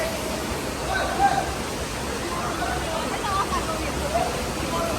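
The Khulung waterfall roars as a steady, broad rush of falling water close by, filling the whole stretch, with voices faintly mixed in.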